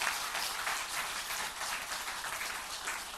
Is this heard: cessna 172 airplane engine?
no